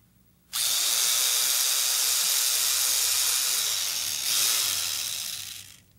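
A power drill whirs steadily for about five seconds, a loud continuous high-pitched buzz that starts abruptly and cuts off near the end, with a slight surge in pitch partway through.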